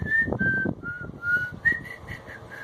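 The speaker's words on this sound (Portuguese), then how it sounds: "fica assobiando a música." A person whistles a simple tune alone, with a series of clear sustained notes at a moderate level and soft background noise underneath.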